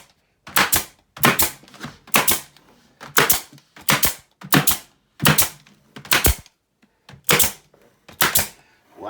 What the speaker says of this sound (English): now I'll take my staple gun. Just staple it down a few places.